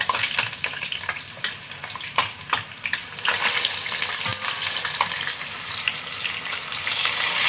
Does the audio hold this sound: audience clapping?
no